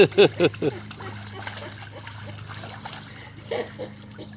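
A few quick splashes of water in a pool up close, followed by softer sloshing and dribbling, with voices talking in the background.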